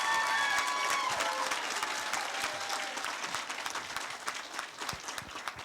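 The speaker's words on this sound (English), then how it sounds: "May we have a round of applause for these wonderful young women." Applause for a group of young women at a coronation ball fills a hall, dense clapping from the crowd that holds steady for several seconds and then thins slightly, with a few brief tones over it early on.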